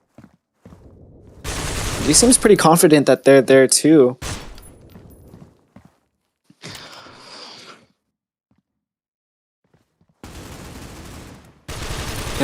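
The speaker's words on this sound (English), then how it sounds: "Styler's looking for a first pick, is pre-firing B mid through the wall bang" Rapid gunfire bursts in Valorant as a player pre-fires through a wall at B mid, sharp shots clustered early, followed by sparse footsteps and later noises, with a caster talking over the opening.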